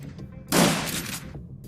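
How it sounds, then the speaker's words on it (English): A shotgun blast fires in the video game Shadowrun Dragonfall, one heavy burst with a short decaying tail, loud and alone. "We're going with the shotgun."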